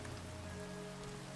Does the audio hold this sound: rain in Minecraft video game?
yes